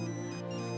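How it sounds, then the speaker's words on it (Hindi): A phone ringtone rings steadily through a short stretch, a sustained electronic tone with no voices over it. "वो देख, फिर से फोन बज रहा है"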